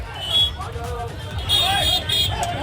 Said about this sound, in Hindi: गाड़ियों की कतार लग गई। हॉकिंग आप सुन सकते हैं।